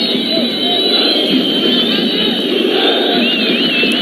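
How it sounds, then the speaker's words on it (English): Football stadium crowd at a Sudan v Chad World Cup qualifier roars in a dense, continuous wall of cheering, whistles and shouting, loud and steady throughout with no break. "This is the loudest the crowd have been all night."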